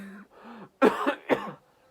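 A person demonstrates a vampire cough into the elbow: two sharp, close coughs in quick succession, following a few soft voiced sounds, heard up close.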